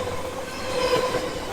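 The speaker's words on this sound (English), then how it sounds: "Oh my God, the train's coming." A short train rolls past nearby in daytime, a steady roar of rail cars with a thin wheel squeal rising over the rumble, loud and continuous.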